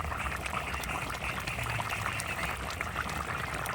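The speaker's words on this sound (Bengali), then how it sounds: "মাছের ঝোলে জোস ফুটে গেছে ঝোলটা" Katla fish curry with potato, kohlrabi and tomato boiling in a pot, giving a steady, continuous bubbling hiss that holds level throughout.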